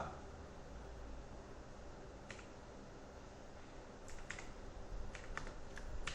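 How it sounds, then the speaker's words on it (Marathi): Keys tapped on a computer keyboard while a name is entered, sparse light clicks at first, then a quicker cluster of keystrokes near the end over a steady background hiss. "दुसरं मी नाव लिहितो दीक्षा"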